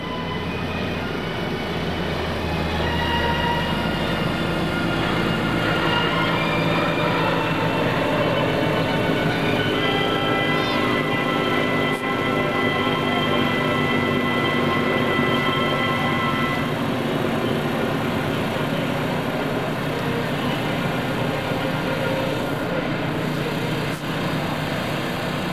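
A P-3C Orion turboprop patrol aircraft passes during an airshow demonstration at NAS Oceana, its number 4 engine restarting. A steady, loud droning roar holds throughout, with layered engine tones shifting as it goes by.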